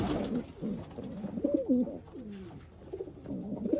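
Low, rolling coos from racing pigeons repeat close by, warbling and throaty, with a faint hiss in the background.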